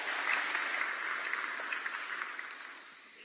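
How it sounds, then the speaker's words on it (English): A church congregation applauds together in a sanctuary, a dense steady clatter of many hands that carries on without talk and slowly fades over a few seconds. "it's not every day that Presbyterians clap and worship"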